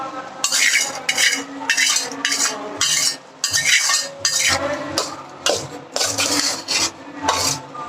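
A dried fish curry is stirred and scraped in a pan, a rapid run of rasping strokes in a steady rhythm, close and alone with no talk.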